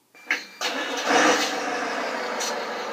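A Chinese-made truck sound module fires up, a brief cranking burst settling into a steady electronic diesel idle that holds alone to the end.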